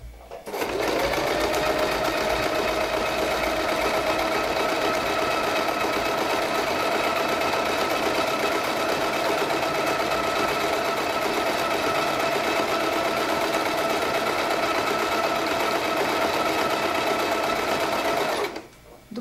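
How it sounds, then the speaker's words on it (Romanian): A Silvercrest sewing machine runs a triple stitch, its motor humming steadily and loudly at close range for nearly the whole stretch, with no talking over it. "acul bate de trei ori în același loc"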